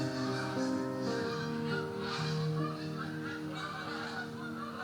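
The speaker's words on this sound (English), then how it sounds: "Did you hear the Canadian geese just now flying over my house?" Canada geese honk as they fly over a house in fall, a dense overlapping chorus of many calls that holds steady and loud throughout, with no talk.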